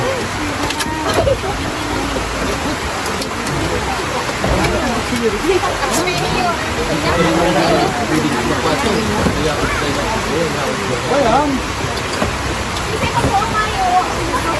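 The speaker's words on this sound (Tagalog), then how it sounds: "Kahit umuulan eh." Steady, heavy rain pours outdoors during a Christmas charity giveaway, with a continuous loud hiss and patter. Voices and general crowd babble run beneath it throughout.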